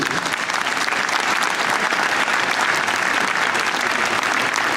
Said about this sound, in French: Je voudrais que ce soir, nous les applaudissions, tout cela à nouveau.